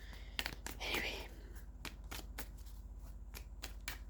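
Tarot cards being shuffled by hand in a quiet room, giving a burst of riffling and soft slaps followed by a few brief flicks. A voice can be heard faintly in the background.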